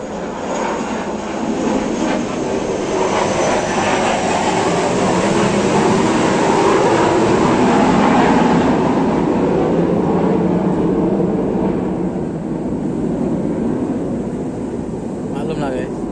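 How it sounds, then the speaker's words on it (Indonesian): An airplane roars overhead with a loud, steady broadband drone that swells toward the middle and eases off slightly near the end. "Pesawat."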